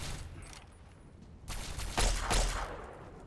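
Gunfire in Fallout 3 comes as a few loud, sharp bursts in the second half, clustered shots cracking over a quiet, hissy background.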